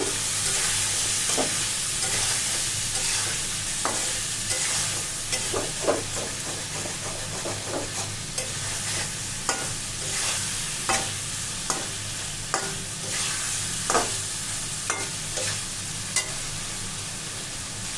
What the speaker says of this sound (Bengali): এখন মাছগুলিকে কষিয়ে নেব।